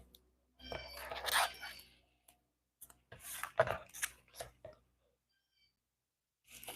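Tape being torn and pressed onto a handmade 3D card, heard as a loud crinkling rip followed by a second burst of crackling and tapping after a pause, close up and with no talk.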